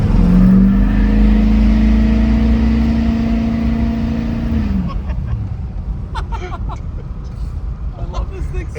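A Duramax diesel-powered Cadillac accelerates hard with a loud, droning engine roar up close for about five seconds, then the engine eases off, leaving lower road noise with a voice talking over it.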